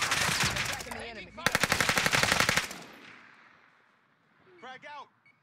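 Rapid bursts of automatic gunfire in the battle royale game Warzone Caldera rattle out in two loud, dense volleys, followed by a quieter tail and a brief spoken voice near the end.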